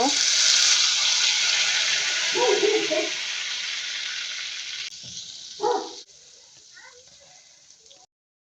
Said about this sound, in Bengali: এখন এই গরম তেল দিয়ে দেব।